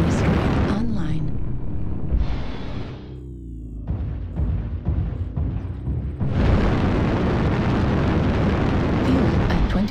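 Artillery strike explosions in a video game, several heavy booming blasts with rumbling tails, one near the start and a large sustained burst later, alongside synthetic game voice announcements and ambient noise.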